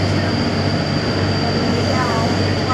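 Sentosa shuttle train running on its track to Beach station on Sentosa island, Singapore, giving a steady, loud rumble with a constant high whine from start to finish.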